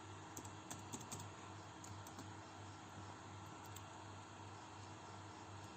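HTML code being typed on a computer keyboard, quiet close key clicks in quick irregular bursts over a low steady hum, with no talk.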